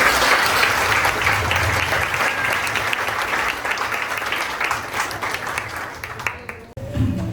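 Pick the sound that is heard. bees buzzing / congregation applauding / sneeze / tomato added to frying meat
congregation applauding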